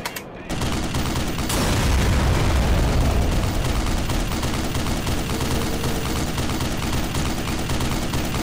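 Sustained suppressing gunfire in the Black Mesa shooter game, a dense continuous roar of shots and blasts that starts abruptly and holds loud for about eight seconds without pause.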